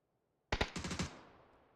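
A sharp burst of MG3 machine gun fire in the PUBG battle royale game, about six rapid loud shots in quick succession that ring out and decay into a fading tail.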